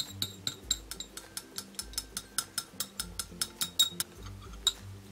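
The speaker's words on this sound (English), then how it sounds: "So I'm just going to mix that all together with my spoon." A spoon stirring foundation makeup in a small container makes a run of quick, evenly spaced clicking taps, close and faint, with no voices.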